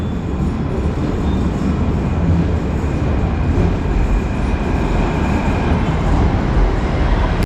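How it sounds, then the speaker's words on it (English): A train at a station platform in Jaipur, India rumbles steadily and loudly, a continuous heavy roar of rolling carriages with a faint high whine running through it. "so that's our train"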